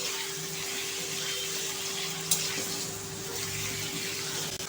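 Chopped half tomato sizzling in a hot pan over a high gas flame while cooking red amaranth, a steady close hiss with a faint hum underneath.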